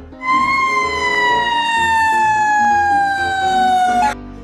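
A toy fire truck's electronic siren wails in a single long, slowly falling tone, loud and close, cutting off abruptly.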